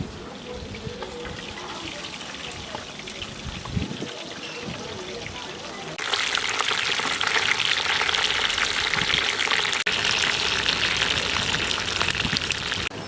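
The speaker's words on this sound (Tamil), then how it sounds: "மீன் நல்லா ஃப்ரை ஆகிடுச்சு." Fish frying in oil over a low flame, a steady rain-like hiss and crackle that grows noticeably louder and denser partway through.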